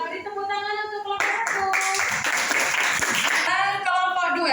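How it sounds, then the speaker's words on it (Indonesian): A classroom of students claps for a presenting group, a dense burst of hand clapping mixed with voices and some sung or drawn-out tones before and after. "beri tepuk tangan untuk kelompok"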